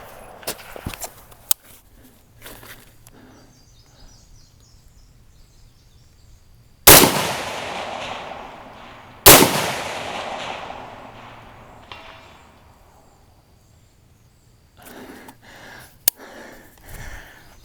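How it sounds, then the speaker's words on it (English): A 6.5 Grendel rifle fired at long-range targets, two loud, sharp shots several seconds apart, each trailing off in a long rolling echo, with faint clicks and handling noises before and after. "I squeezed the trigger on the next shot before I heard the report from the last one"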